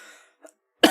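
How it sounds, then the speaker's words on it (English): A single sharp, harsh cough bursts out near the end after a brief bit of breathy noise and near silence. "I'm sorry, I'm coughing."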